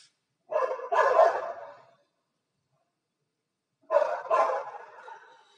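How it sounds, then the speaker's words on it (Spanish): Pet dogs indoors bark excitedly at another dog being walked outside: a burst of loud barking, a pause of a couple of seconds, then another round, close to the microphone. "Están paseando a un perro y mis perritas se alocan."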